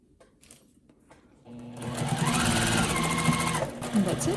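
A sewing machine back-stitches a hoodie. A quiet opening gives way to a loud, rapid mechanical whir of stitching that runs close and steady to the end.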